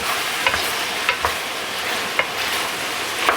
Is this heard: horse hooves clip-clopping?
no